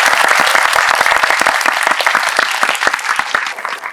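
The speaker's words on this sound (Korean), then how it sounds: "관객분들 아마 많이 울리셨을 텐데 큰 박수." A cinema audience at a Megabox COEX screening and director Q&A bursts into loud, dense applause, steady at first and tapering slightly over a few seconds.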